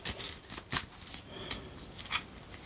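A deck of tarot cards is cut and handled, giving a few crisp, papery snaps and rustles at irregular intervals, close and moderately quiet.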